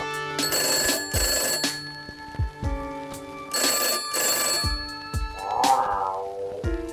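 A telephone rings in a cat detective video game: two loud bursts of bell-like trilling, a pause, two more bursts, then a brief electronic tone, with no talking.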